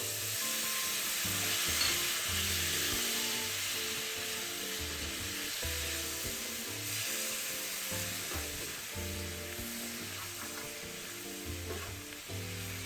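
Braised home-style dishes sizzle and fry steadily in a pan right after cooking wine is added, a continuous loud crackle with faint stirring and scraping mixed in.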